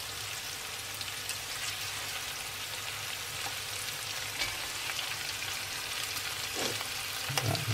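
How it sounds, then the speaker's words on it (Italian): Eight quails browning in a frying pan give off a steady, even sizzle of hot fat that runs the whole way through, moderately loud and close, with no voices over it. "Inseriamo la nostra quaglia, ne faremo rosolare ovviamente da tutte le parti."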